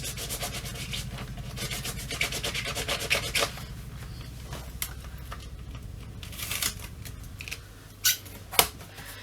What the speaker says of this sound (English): Just clean my stamp off.